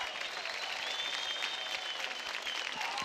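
A studio audience gives loud, dense applause after a dance performance on the TV show Dance India Dance, with steady, continuous clapping from a large crowd.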